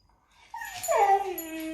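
A hungry, bossy dog whimpers close by. It gives one rising, drawn-out whine that bends and then holds a steady high tone, loud and alone, with no voices over it.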